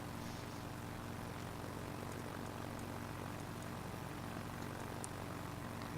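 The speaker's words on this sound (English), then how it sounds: "Activate Group 1. The top rotor spins up." In the SimplePlanes video game, a helicopter's top rotor spins up as a steady droning engine and rotor hum at moderate level, unbroken for the whole stretch, with no voices.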